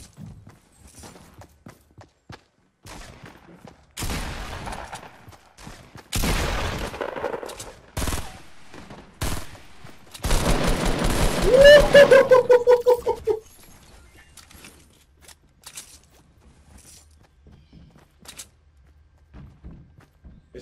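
Gunfire from a weapon in Fortnite on PS4, scattered single shots and short bursts that build to a loud rapid volley, then fade to quiet ambience.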